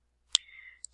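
A single computer mouse right click, one sharp close click in near silence, followed by a faint soft tone and a second tiny click.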